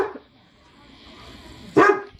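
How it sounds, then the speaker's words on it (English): A dog indoors gives a single loud, close bark after a stretch of quiet room noise. "What you barking at?"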